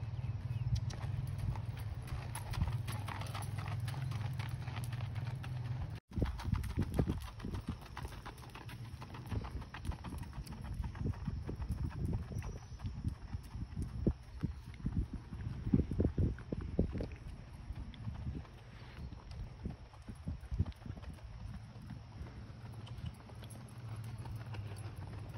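A stocky 14.1-hand mare walks off, her hooves clip-clopping in a steady, fairly close rhythm over low wind rumble, with one brief dropout early on.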